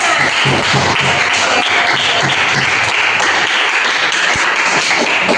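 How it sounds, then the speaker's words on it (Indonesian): Pupils in a school religious-education lesson applaud together, a loud, close, continuous patter of hands that holds steady throughout. "Tepuk tangan untuk kita semua."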